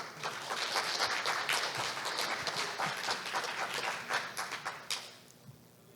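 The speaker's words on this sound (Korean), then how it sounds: "큰 박수로 맞아주시기 바랍니다" Audience applause welcoming the president of the Korean Institute of Electrical Engineers at an electrical engineering summer conference, a dense, even wash of clapping that holds steady and then trails off near the end.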